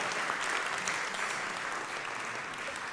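Sustained, even applause from a festival audience, a dense bed of many hands clapping at moderate distance with no pause.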